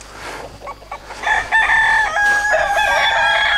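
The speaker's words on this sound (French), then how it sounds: "là on a un jeune sujet, c'est un coq qui a 1 an et demi" A year-and-a-half-old blue-grey, slightly amber-tinged Limousin fishing rooster crows loudly and close by. The long, drawn-out call follows a few soft clucks.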